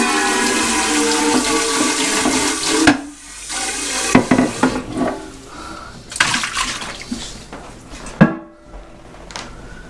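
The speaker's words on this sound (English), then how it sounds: "now we're going to rinse these off again" Tap water runs while Berkey water filter parts are rinsed, a steady splashing rush broken by a few louder gushes and clunks of the containers being handled up close.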